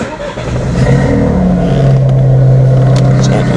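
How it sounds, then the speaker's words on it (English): A BMW 1 Series F20 hatchback with an electric power steering fault starts up: a brief cranking whir gives way to a loud, close engine catching and settling into a steady idle hum, with a voice nearby. "So let me just start the car."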